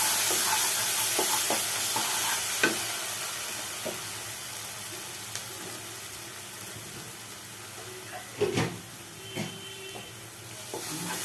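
Spice masala with salt being fried and stirred in a pan for an elephant foot yam curry: a low steady sizzle with occasional scraping spoon strokes and a couple of louder knocks near the end, no voices.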